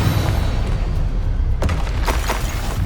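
Confringo spell explosion in the Hogwarts Legacy video game, a heavy rumbling boom filling the clip, with sharp crackling bursts layered over it toward the end.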